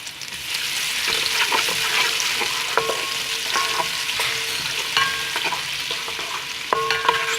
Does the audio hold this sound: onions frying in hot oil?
yes